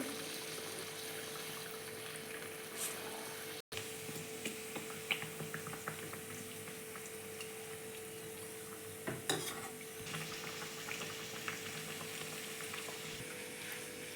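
Mangalore buns deep-fry in a small pan of oil, giving a quiet, continuous bubbling sizzle with scattered soft crackles and a couple of brief knocks.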